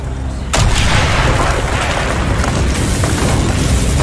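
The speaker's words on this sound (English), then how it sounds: "Mason, blow a hole in that fucking wall." An explosive charge blowing a hole through a wall in the shooter Call of Duty: Black Ops, a sudden loud blast followed by a sustained rumbling roar of debris.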